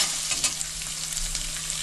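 Thinly sliced onion frying with black cumin in hot oil gives a dense, continuous close sizzle with faint stirring scrapes, brief and steady throughout.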